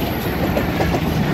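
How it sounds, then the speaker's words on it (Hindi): A GEU-20 railcar passes at high speed along the main line at Feroozwala, a steady, loud rolling roar with rail clatter continuing throughout, close by and without speech. "काफ़ी गन गरज से यहाँ से गुजरी है जी रेल कार जी"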